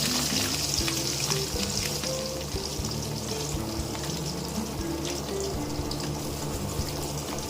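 Onions and mustard seeds fry in hot oil for a traditional radish sambar, giving a steady, close sizzling hiss with small crackles throughout. No one speaks.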